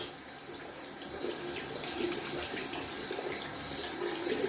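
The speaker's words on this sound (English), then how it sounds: "Just using lukewarm water to rinse my brushes." Lukewarm tap water runs steadily into a sink to rinse a new boar-bristle shaving brush, a close, continuous hissing stream with a slight swell partway through and no talking.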